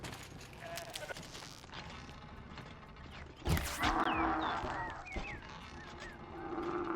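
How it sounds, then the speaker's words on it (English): Goats bleat faintly in the video game Horizon Zero Dawn, a few short cries rising over soft game ambience and a dull thud in the middle. "These poor goats."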